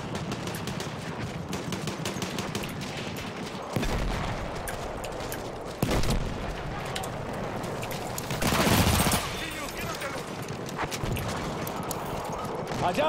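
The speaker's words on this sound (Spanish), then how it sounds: "Allá hay una ametralladora." In the video game Battlefield 1, machine guns fire rapid rattling bursts over continuous battlefield din, with a few louder thumps standing out.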